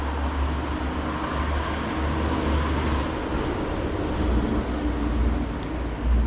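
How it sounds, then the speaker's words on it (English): A logging truck on a highway across a river, a steady low rumble that carries from a distance and holds without a break over a wide, even wash of background noise. "a logging truck just went by across the river"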